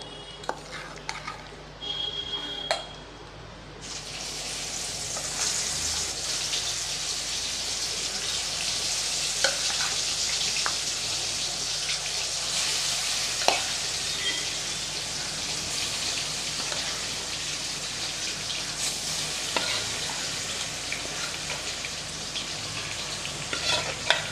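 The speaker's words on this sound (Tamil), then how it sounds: "ஒரு 2-3 நிமிஷத்துக்கு நல்லா எண்ணெயிலே சிக்கனை நல்லா வதக்கி விடலாம்" Marinated chicken sautéing in oil in a pan, a steady hissing sizzle with occasional scrapes and clinks of a spoon stirring against the metal, close and moderately quiet.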